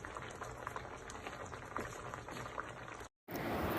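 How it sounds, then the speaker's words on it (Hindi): Chicken fries in ginger garlic paste in a karahi with a steady, faint sizzle that continues throughout, broken by a brief cut near the end. "चिकन को हम 2 मिनट के लिए भून लेते हैं"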